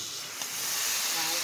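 Beef dropped into oil-released cooked masala for gorur mangsho sets off a loud, steady broadband sizzle and hiss that builds slightly and holds for the whole moment.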